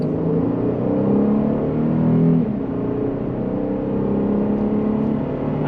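A 2014 Mercedes E350 sedan's engine hums steadily and rises in pitch as it accelerates at about half throttle, a smooth continuous drone with road rumble underneath, no voices.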